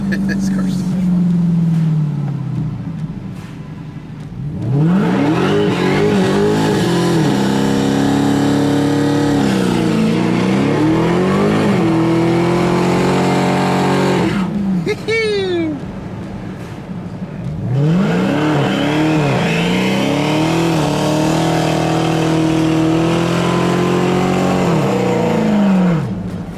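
A 2021 Dodge Charger SRT Hellcat Redeye Widebody engine roars loud and close while driving, with repeated hard revving sweeps rising and falling through gears and brief lulls between bursts, as people talk over it inside the car.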